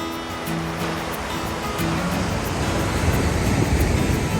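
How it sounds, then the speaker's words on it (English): Ocean waves washing onto a beach as a steady broadband rush that swells slightly louder toward the end, with no clear breaks between surges. "We are at the beach"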